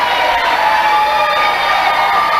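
A wrestling crowd in Red Lion, Pennsylvania cheers and roars steadily, a dense, loud, continuous wall of voices with no single standout shout.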